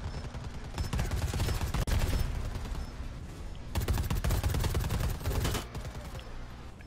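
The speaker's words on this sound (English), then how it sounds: "Keep shooting, keep shooting." Rapid automatic gunfire in Predator: Hunting Grounds, loud sustained bursts with a short gap in the middle and a thinner tail at the end.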